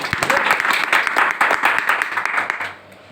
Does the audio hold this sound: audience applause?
yes